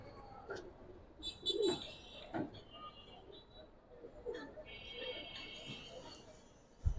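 Giribaz pigeons coo softly in short, scattered calls close by. Brief higher chirps and faint background chatter sit under them, and a sharp knock comes at the end.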